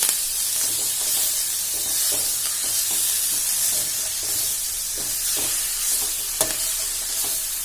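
Amaranth leaves frying in a pan for a tomato curry, a loud steady hiss of sizzling with soft stirring knocks scattered throughout and one sharper clink near the end, no speech.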